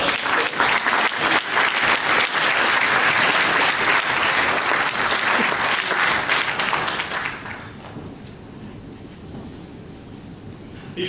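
Audience at an international conference on employment of persons with disabilities breaks into loud sustained applause, dense clapping that holds for several seconds before fading to a quieter room murmur.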